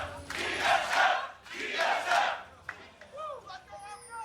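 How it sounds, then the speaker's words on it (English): Esports arena crowd at an LCS summer match between TSM and OpTic Gaming chanting loudly in two long rhythmic surges, then fading into scattered voices and cheers. "Familiar chants coming through once again"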